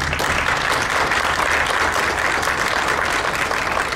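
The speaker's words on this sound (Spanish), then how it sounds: "Quisiera que lo recibiéramos con un fuerte aplauso" A conference audience welcomes a university professor with loud, sustained applause, many people clapping in an even, continuous roar that holds without a break.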